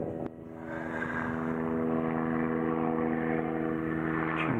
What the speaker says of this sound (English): A helicopter.